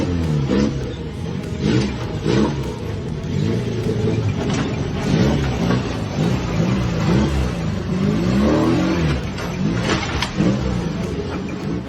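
A battered, worn-out old car, driven on rough roads in Africa, runs with a steady mid-pitched engine drone. Loose metal rattles and clatters continuously throughout, loud and close, with no voices.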